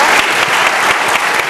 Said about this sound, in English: I would like to invite you to give a round of applause to our wonderful panelists